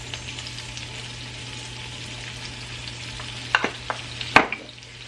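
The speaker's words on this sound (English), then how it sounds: "While that's sauteing real quick" Food sautéing in a hot pan with thyme and salt, a steady close sizzle and hiss running throughout, with a few sharp scraping clatters of stirring near the end.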